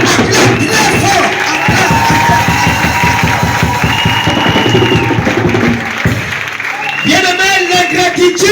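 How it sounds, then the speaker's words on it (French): A church congregation applauds and cheers loudly for a woman preacher, sustained dense clapping with whoops and a rising crowd roar, briefly dipping near the end before swelling again. "nous allons ovationner très fort pour la servante de l'Éternel"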